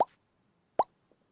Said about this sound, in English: Maddie put her finger in her mouth and made her cheek go pop.